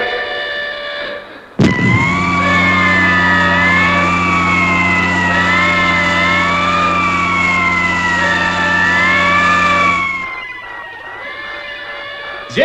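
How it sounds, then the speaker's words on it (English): Alarm sirens wail across Space City in the Fireball XL5 puppet series, loud and continuous with a rising and falling pitch over a heavy droning hum, cutting in abruptly and then fading away. "Turn those alarm sirens off."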